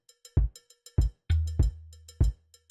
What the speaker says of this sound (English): It is just a cowbell, like a cowbell sound